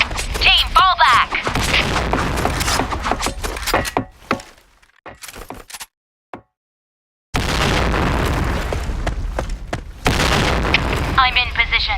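Grenade blasts in the shooter game Sandstorm: heavy booming bursts and rumbling debris come in loud waves, broken by a short near-silent gap, with voices calling out amid the chaos.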